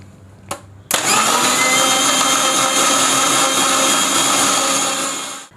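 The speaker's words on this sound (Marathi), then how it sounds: "मिक्सरला फिरवून घेऊयात" A kitchen mixer blends mango milkshake with ice and cold milk. After a brief click it starts with a sharp burst, then whirs loudly and steadily for about four seconds before cutting off.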